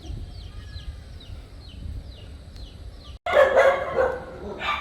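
A small dog at a mountainside mansion outside Manila yaps in a quick burst of close, sharp barks after a quieter stretch with faint bird chirps in the background.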